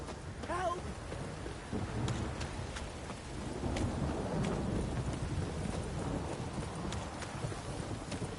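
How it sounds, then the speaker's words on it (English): Heavy downpour in The Witcher 3, with rain hissing steadily and deep thunder rumbling through it. Sharp intermittent cracks and what may be hoofbeats sound beneath, and a brief call is heard near the start. "This downpour's a bastard"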